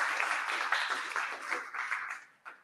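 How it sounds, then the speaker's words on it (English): An audience at a tech meetup claps steadily for a couple of seconds, a dense, moderately close patter of many hands that thins out at the end. "Give some claps."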